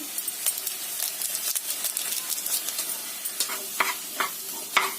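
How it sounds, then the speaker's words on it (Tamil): Boiled Maggi noodles being stirred with masala in a hot pan: a continuous light sizzle broken by irregular close scrapes and clinks of the spoon against the pan, no talking. "நல்லா இப்படி பிரிச்சு விட்டு நல்லா கிளறி விட்டுருங்க."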